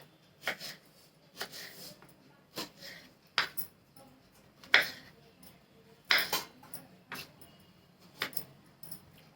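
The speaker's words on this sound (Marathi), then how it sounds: "सगळं कापून घेते मी असं झाल्या सर्व कायऱ्या उभ्या कट करून अशा" A knife cuts raw green mangoes lengthwise, giving soft, separated cuts and clinks against a board or plate, spaced about a second apart and heard up close without talk.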